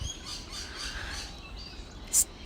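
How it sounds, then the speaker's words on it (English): Birds calling outdoors on Australian sand dunes at sunrise, soft chirps and squawks scattered over a quiet ambient background, with one brief sharp high call near the end. "Listen to the birds."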